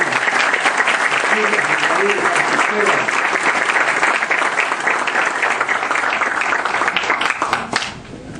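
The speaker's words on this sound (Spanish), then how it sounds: "un aplauso para Fernando" A crowd at a book presentation applauds Fernando, a loud sustained roar of clapping with scattered voices, holding steady for several seconds before tapering off at the end.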